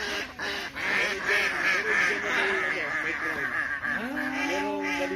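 Ducks on an organic orchard farm quack loudly and constantly in a dense, overlapping chorus, with a few human voices mixed in.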